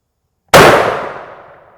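A single loud, close rifle shot fires World War II German 8mm SMKH ammunition at modern body armor from a lead sled rest: a sharp blast after silence, trailing into a fading echo.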